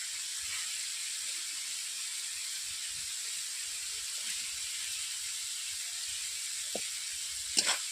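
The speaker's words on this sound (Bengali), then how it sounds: "এরপর দিয়ে দিচ্ছি ভেজে রাখা পেঁয়াজ কলিগুলোকে" Pre-fried onion rings go into a pan of sizzling masala for a salted-fish jhal. A steady, close frying hiss runs throughout, with a few soft clinks and a sharper clatter near the end.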